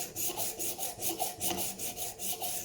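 A knife blade drawn repeatedly across the 320-grit stone of a Work Sharp rolling sharpener, giving about a dozen close, even rasping strokes in a steady back-and-forth rhythm with no talk.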